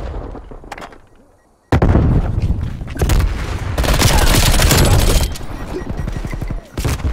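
Combat in Call of Duty Black Ops Cold War multiplayer: a grenade goes off with a loud, close boom after a short lull, followed by heavy sustained gunfire and further blasts, with game voice lines in German underneath.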